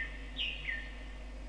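Small birds chirp outdoors in fresh air, a couple of brief bright calls rising over a quiet, steady background hum, fairly faint and with no talking.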